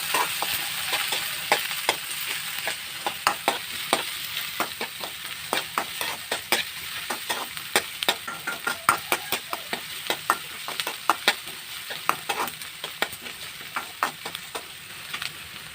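Onion and green chilli stir-fried in a pan, giving a steady close sizzle broken by frequent sharp scraping and clinking strokes of a spoon against the pan, with no talk.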